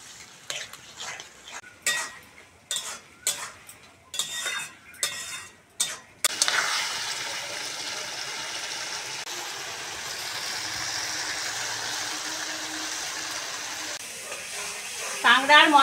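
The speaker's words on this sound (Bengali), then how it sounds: "এবার মশলার সঙ্গে কাঁকড়াটা ভালো করে কষে নেব" Crab is stir-fried with spices in a pan. First comes a run of sharp scraping and clattering strokes of a spatula against the pan. Then a steady close sizzle and hiss runs to the end, with a brief voice near the close.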